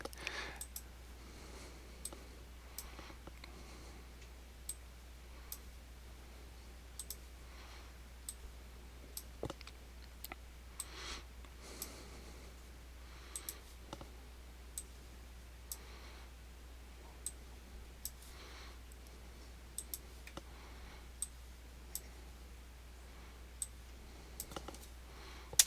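Computer mouse clicks while working in animation software, sparse, sharp and isolated, scattered at irregular intervals over a quiet background with no talking.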